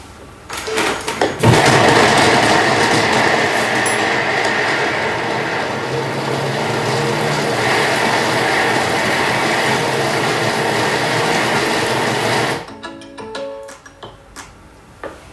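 Thermomix kitchen machine mixing hot dog bun dough, a loud steady whirring motor drone with rhythmic clatter that runs for about eleven seconds and then stops abruptly.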